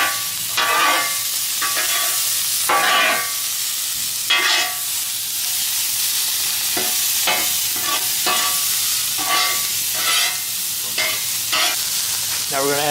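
Sweet and sour peppers sizzle loudly on a hot Blackstone griddle, a steady close frying hiss broken by repeated scraping and stirring strokes, with no voices.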